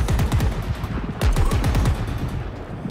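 Rapid bursts of cannon fire from a weapon in the video game Halo Infinite, a steady string of loud, punchy shots that quicken before trailing off, with no speech.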